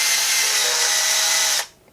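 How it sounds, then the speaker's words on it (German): An old file taped up and spun in a power drill, a loud steady high whine that runs evenly and then cuts off abruptly near the end. "Das Ganze in der Bohrmaschine"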